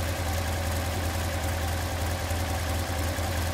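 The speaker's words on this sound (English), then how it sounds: "You are now viewing a 1964 Porsche 356 SC" A 1964 Porsche 356 SC engine with rebuilt carburetors idles steadily and close, a continuous low rumble with even rhythm throughout and no voices.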